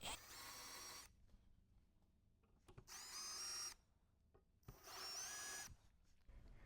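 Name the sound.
power drill drilling into car hatch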